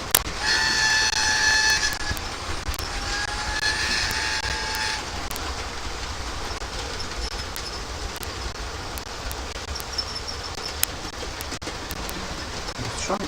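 A model train's whistle sounds in a sitting room with several steady high tones for about five seconds, followed by a continuous mechanical running rumble with faint clicks.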